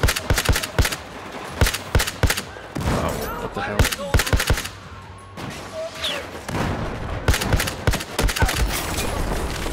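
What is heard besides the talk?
gunfire shots in Battlefield 4 video game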